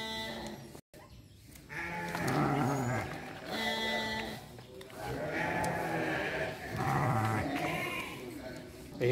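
Garut sheep, also called Priangan sheep, bleat repeatedly at a rams' livestock market in Wanaraja, loud and close in overlapping calls, with people talking throughout.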